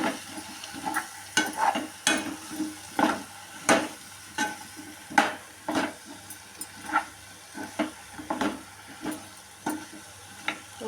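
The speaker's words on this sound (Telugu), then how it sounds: "మనం ముందుగా కట్ చేసి పెట్టుకున్న ములక్కాడ ముక్కల్ని వేసుకొని ఒకసారి కలుపుకోవాలి." Drumstick pieces are stirred into a curry in a pan, giving a regular series of scraping spoon strokes over a soft background sizzle, close and fairly quiet.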